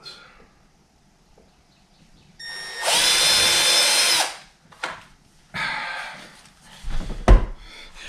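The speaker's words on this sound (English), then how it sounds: "Now what we're gonna do, we're going back to our drill with a pre-drill again." A DeWalt power drill pre-drills screw holes in a door during deadbolt or handle installation, with one sustained high whine of about a second and a half followed by shorter bursts and a few knocks, close and loud.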